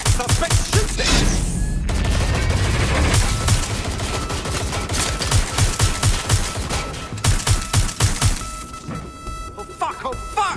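Heavy gunfire in the video game Watch Dogs Legion: dense, rapid bursts of shots rattling continuously and loud, with scattered sharper cracks and a brief voice mixed in.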